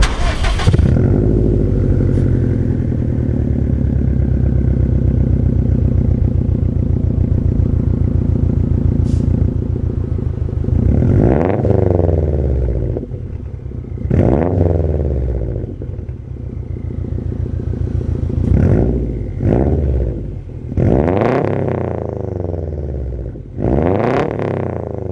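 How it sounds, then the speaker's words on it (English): A Subaru STI Launch Edition's exhaust, loud and close, holds a steady idle-like drone for about ten seconds, then rises through several sharp revs that climb and fall back, alone with no talk. "We'll go to an exhaust clip"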